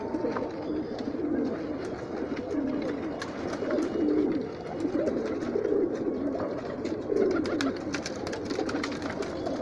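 Pigeons coo repeatedly in low, soft, rounded calls, several birds overlapping close by, with steady background hiss and no talk.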